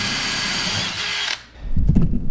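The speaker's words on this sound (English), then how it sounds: "I'm gonna take it down now and drill some holes" A power drill bores holes for a hose reel mount, whining loudly at high speed for over a second before cutting off, followed by a short burst of thuds and clatter.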